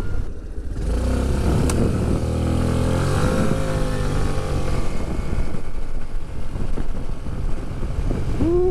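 A Suzuki Burgman Street 125 EX scooter riding on the road, its engine drone steady and loud throughout, mixed with heavy wind rush over the microphone and no speech.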